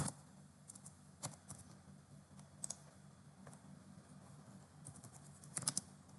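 Typing a social-media post on a computer keyboard, with sparse, quiet key clicks scattered through and a small cluster of quicker taps near the end over a low background hum.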